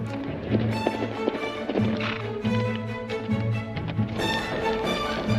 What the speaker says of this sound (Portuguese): Para aqueles com muita coragem, uma montaria em um cavalo selvagem.